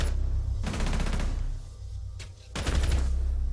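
Gunfire in an esports video game match, rapid bursts of automatic shots in two loud clusters separated by a short lull, with a steady low background hum.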